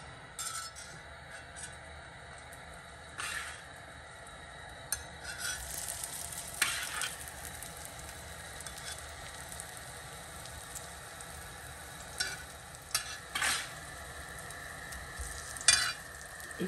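Cutlets shallow-frying in oil on a tawa, a steady soft sizzle with scattered sharp clinks and scraping of a utensil, fairly faint and close, no talking.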